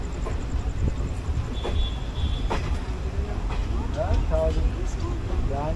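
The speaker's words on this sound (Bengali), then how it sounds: "বলতে পারেন ঠিক এই লোকালের জন্যই কিন্তু আমাদেরও ট্রেন চলছিল" The Paharia Express, an ICF-coach train running from Digha to New Jalpaiguri, moves slowly at night. A constant low rumble and rattle of the carriage fills the clip, and a voice speaks over it.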